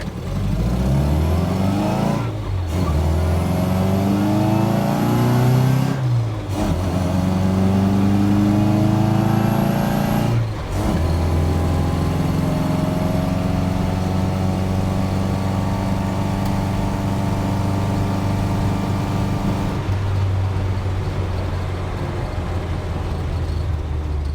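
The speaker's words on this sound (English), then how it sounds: "that was the little drive, the little tour of the Super 998 in this beautiful red pickup" Red Mini pickup truck with a Super 998 engine on the road, its small four-cylinder engine loud and close as it revs up through the gears, with short dips at each shift and steady drone in between.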